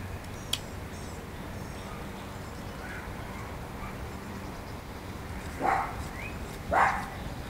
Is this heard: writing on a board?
no